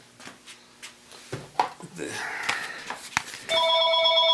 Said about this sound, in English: Don't you love when the phone rings?